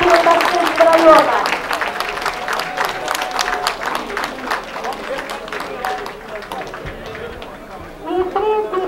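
A crowd applauds at a horse sports games event at the Orenburg hippodrome, with dense clapping and murmuring spread across the stands, fading gradually toward the end before a brief swell of crowd noise.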